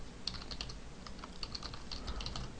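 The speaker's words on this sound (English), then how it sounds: "We're going to type in name" Keys clatter in quick, uneven bursts on a computer keyboard as text is typed into a Dreamweaver CS4 web form, close and fairly quiet over a faint steady hum.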